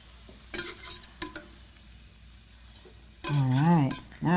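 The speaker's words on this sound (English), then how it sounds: "what a great job frying you've done with them" Potato latkes fry in oil with a low continuous sizzle, broken by a few brief utensil clinks and scrapes; a voice speaks near the end.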